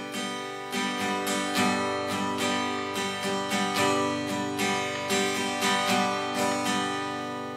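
An acoustic guitar strummed in a continuous, repeating rhythm, played as an easygoing accompaniment pattern, rings out close and bright with steady strokes while the chords shift.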